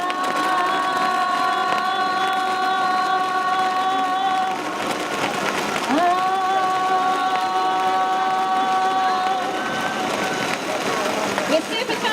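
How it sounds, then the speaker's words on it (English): A Vitamix blender whirs steadily at a vegan food show, its motor hum running continuously beneath a loud, cheering crowd and shouting voices, rising in pitch partway through as it is pushed harder. "We'll counter the noise of the Vitamix a bit"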